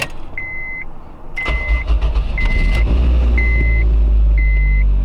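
A Honda car engine cranks and catches about halfway through, settling into a loud, steady idle. The car's interior chime beeps in a regular pattern throughout.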